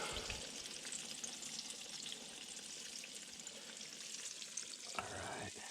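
Small perch fillets fry in hot butter in a pan, a steady close sizzle and crackle running throughout, with a brief clatter near the end and no voices.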